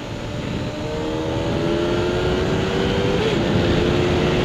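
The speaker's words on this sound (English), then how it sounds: "I like how that engine sounds." A Kawasaki ZX6R motorcycle engine drones steadily while the bike is ridden, heard over loud wind rush. A sustained tonal hum rises slightly in pitch and then levels off.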